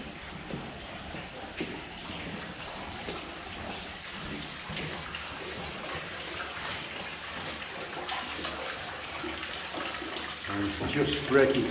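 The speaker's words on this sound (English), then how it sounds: "up in the distance, you can hear a lot of water." Water trickles and splashes in the distance inside a vast slate mine cavern, seeping through cracks from the surface above; a steady, echoing wash of dripping and flowing water, faint and diffuse, growing slightly louder near the end.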